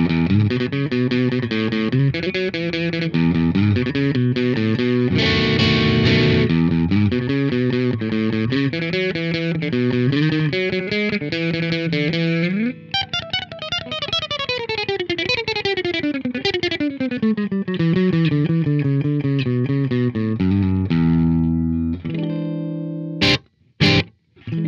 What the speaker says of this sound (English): Now we're going to check out some of the rockabilly tones Gretsch is known for.